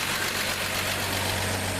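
A 1973 Plymouth Valiant engine idles steadily with a low, even rumble, close and continuous for a couple of seconds.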